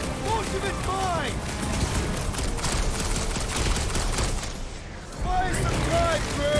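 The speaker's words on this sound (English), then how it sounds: "Sounds like a lot of smoke and gunfire!" Video game gunfire in Marvel's Guardians of the Galaxy, sustained rattling bursts of shots and booms during a chaotic battle, with characters shouting over the noise and a brief lull before the firing resumes.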